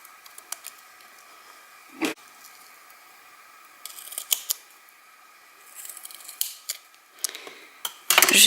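Scissors snip through card paper for a folding easel card, with a series of close, crisp cuts spaced irregularly and a sharper rustle at the end.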